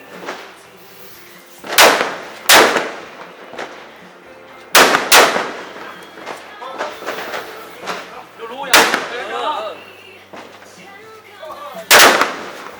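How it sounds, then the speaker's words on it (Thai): Firecrackers set off at midnight for a Hmong New Year celebration, several sharp loud bangs at irregular intervals, some in quick pairs, with people talking and shouting between them. "เราจะมาร่วมจุดเฉลิมฉลองปีใหม่กันด้วยประทัดลูกนี้นะครับคุณผู้ชมครับ"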